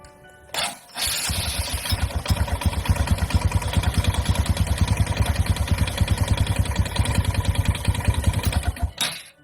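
A motorcycle with an automatic clutch starts up and runs at a steady, rapid, chugging idle, loud and close, before being switched off.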